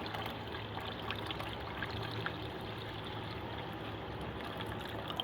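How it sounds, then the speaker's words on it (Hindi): Water pours steadily from a jug into a cooking pot on a lit burner, a soft continuous splashing trickle with no one talking. "अब हम इसके अंदर पानी ऐड करेंगे।"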